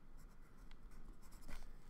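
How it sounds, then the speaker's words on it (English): Short scratchy strokes of a pen or pencil writing notes, close and steady for a couple of seconds, with no talk over it. "and I will write that down"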